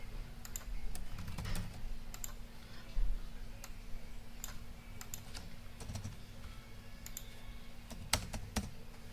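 Typing a card number on a computer keyboard, quick irregular clusters of light key clicks, close and fairly quiet over a faint steady hum, with no talking.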